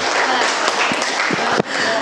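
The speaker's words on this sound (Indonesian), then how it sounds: "Ya, kita berikan tepuk tangan." Steady broadband clapping from a crowd of children fills the clip at close range, with a few sharper claps and a brief dip near the end.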